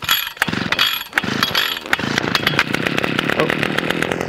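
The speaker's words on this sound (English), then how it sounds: "Now go ahead and pull it, and then as soon as it sputters, we'll take it off choke and pull it one more time." ECHO two-stroke string trimmer engine catching after a pull start and running loudly at a steady, rough buzz, with short sputtering bursts at the start.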